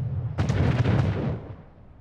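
Gunfire from military units in the video game Anno 1800: a rapid cluster of booming shots, several sharp cracks in quick succession, fairly loud and then trailing into a fading rumble.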